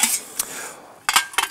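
Metal clinks and knocks as a pressure cooker is handled in a kitchen, two short clusters of bright clattering separated by a quieter gap, close and fairly loud with no talking.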